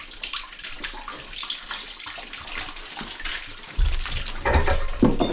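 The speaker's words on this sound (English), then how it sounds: "the water's decided to come and start pissing out everywhere" Running water splashes and rushes steadily from a tap, growing heavier and louder toward the end with a strong gushing surge.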